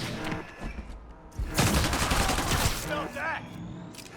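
Gunfire in the Spider-Man Remastered action game, a dense volley of shots swelling in the middle amid chaotic combat noise, with a character's voice shouting over it.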